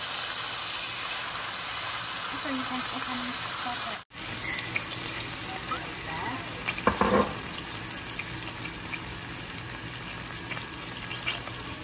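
Steady hiss of oil frying in a large wok with a brief louder sizzle burst midway as fried shallots hit the hot oil for pad thai, plus faint clinks of stirring.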